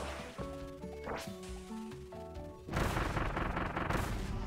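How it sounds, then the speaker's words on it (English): A big explosion in the video game Kirby and the Forgotten Land bursts in loudly partway through, a dense, sustained blast that follows a stretch of bright game music with tonal notes. "the more I set up, the bigger the explosion."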